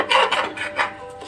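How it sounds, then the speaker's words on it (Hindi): Rice being stirred and fried with spices in a pressure cooker for pulao, heard up close as a short stretch of scraping and rasping strokes in a rough rhythm. "हम मसालों के साथ चावल को 1-2 मिनट और भून लेती हूँ।"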